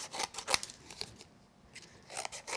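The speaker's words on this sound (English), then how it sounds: "we will trim away the little edges that stick out" Scissors trim the protruding edges of card paper while making a zigzag border greeting card, with a few quiet, crisp snips spaced irregularly in a faint, close setting.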